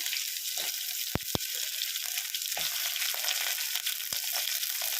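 Drumstick pieces fry in hot oil with cloves and cinnamon for a mango and drumstick sambar. A steady, bright sizzle runs throughout, with a few sharp pops and light clinks of stirring.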